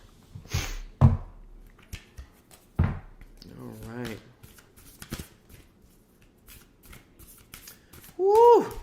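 A Starseed Oracle card deck is shuffled by hand in several short riffling bursts, close and crisp, with quiet pauses between bursts and a brief squeak near the end.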